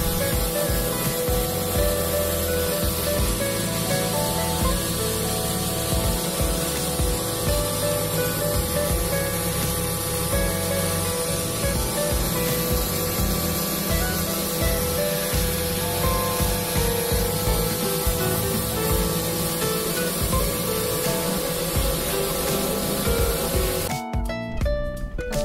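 Continuous loud rushing and rattling from an air handling unit with broken water eliminator fins braced by wood supports, steady broadband roar with fluttering noise throughout, no voices.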